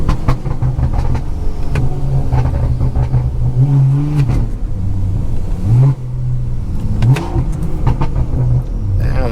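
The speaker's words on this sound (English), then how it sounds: "I always be tapping on the gas pedal, because when you do that at the right RPMs, it pops like crazy" BMW 340i with a straight-pipe exhaust revving up and down in short throttle stabs, loud and close, with sharp pops and crackles between the deep rumbling surges.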